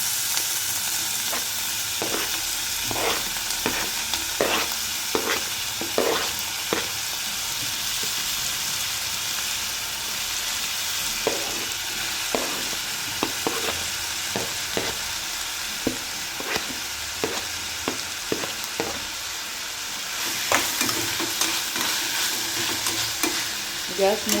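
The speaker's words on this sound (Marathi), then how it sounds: "त्यानंतर इथे आता सिमला मिरची कांदा टोमॅटो सर्व एकत्र टाकून घ्यायचं आहे।" Capsicum, onion and tomato stir-fry together over high heat in a little oil, a constant close sizzle punctuated by repeated scraping strokes of a spatula.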